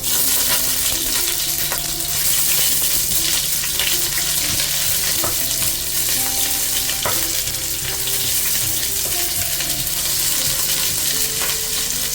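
Sliced onions frying in masala for a turkey biryani give a steady, loud sizzle throughout, with occasional clinks of a stirring spoon against the pan and no talk.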